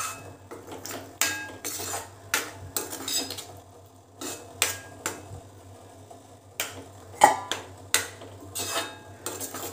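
A spatula scrapes and clinks against a metal pan while masala roasts in oil for Kolhapuri mutton, irregular bursts of clattering strokes separated by short pauses, close and moderately loud, with no speech.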